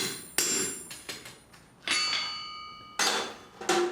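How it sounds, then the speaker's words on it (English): A hammer strikes a tall, hard chisel in single blows, each a sharp metallic clang with a ringing tail, a handful of separate hits spaced unevenly and heard close by. "Now I'm taking single blows on a tall, hard chisel from an awkward position."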